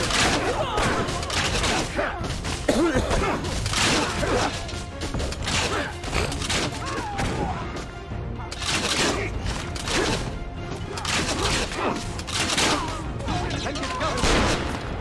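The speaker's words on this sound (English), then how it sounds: "You also have a cannon fire that is relatively limited" Cannon fire in the video game Assassin's Creed Revelations, dense repeated booming shots and crashes in rapid succession mixed with game mechanisms, with speech at times.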